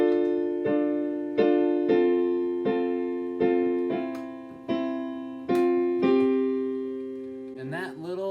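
A piano plays the riff from a song: eight or so evenly spaced chords, each struck and left to ring. The notes are close and clear, with a brief voice starting at the very end.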